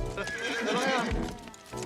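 Horse neighing loudly in a long shaky whinny with hooves clip-clopping beneath, in a wild-west desert setting, close and agitated.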